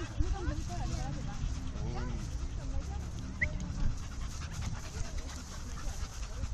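An Amstaff puppy and a miniature Bull Terrier play together, panting and making small whimpering and growling noises close by, while a person talks throughout.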